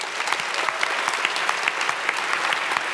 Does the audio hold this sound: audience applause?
yes